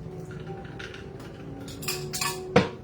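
A single ice cube drops into a cocktail glass while mixing a Rudolph Sour, giving a sharp, close clink near the end after some soft glassware clatter and handling noise.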